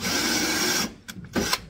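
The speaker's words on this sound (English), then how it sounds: "right here, I'm drilling the floor down first" Power drill boring through the floor panel of a Datsun Z during a front frame rail and floor fit-up, a steady close whine for most of the moment, then stopping with a few brief metallic clicks and handling noises.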